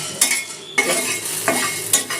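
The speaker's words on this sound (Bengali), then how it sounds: "আর এটা সমানে নাড়াচাড়া করে ভেজে নেব।" About fifty whole black peppercorns and eight green chillies are stir-fried in a pan for a chicken curry, with loud, close spatula scrapes sweeping through at a steady rhythm over a constant sizzle. No one speaks.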